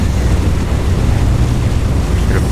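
An A2A B-17 Flying Fortress in the FSX flight simulator taxis at Bowerman airport (KHQM) as its engines throttle up. A loud, steady, broad engine drone continues throughout without letting up.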